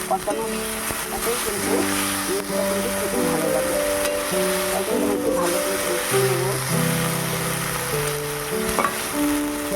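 Banana flower mixture fries and sizzles in a pan while being stirred, a continuous close hiss with scraping touches, under a background of tonal music or humming.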